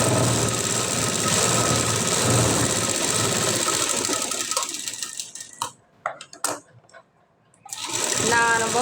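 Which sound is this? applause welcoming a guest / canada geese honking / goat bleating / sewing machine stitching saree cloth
sewing machine stitching saree cloth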